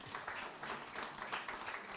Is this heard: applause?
yes